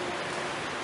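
Steady rain falls over an open ground at Araullo, a dense even wash with no breaks and no voices.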